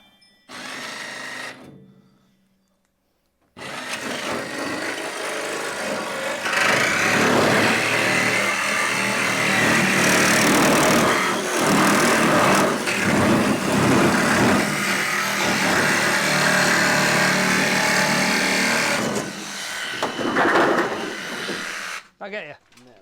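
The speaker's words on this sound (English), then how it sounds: "It doesn't actually have a trigger on this jigsaw, you just got to press the button" A handheld jigsaw cuts a window opening through the rear door panel of a VW Crafter van, a loud sustained buzzing rasp that starts after a short pause and runs for about fifteen seconds before stopping.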